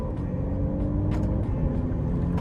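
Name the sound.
Alfa Romeo Giulia engine accelerating, ZF torque converter transmission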